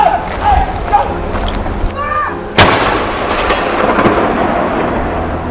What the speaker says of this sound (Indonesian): dentuman meriam sebanyak 96 kali juga ditembakkan di tepi Laut Gibraltar.